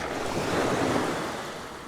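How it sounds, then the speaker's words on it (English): Ocean waves surge and wash around coastal rocks at dusk, a single broad hiss of surf swelling and easing over a couple of seconds, mixed with wind noise and nobody talking. "I want the waves to curl in around this side of the rock"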